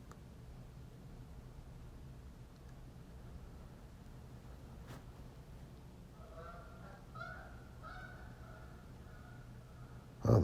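Several short bird calls chirp faintly in the distance over a steady low background hum, arriving in a cluster partway through, followed by a brief louder knock at the very end.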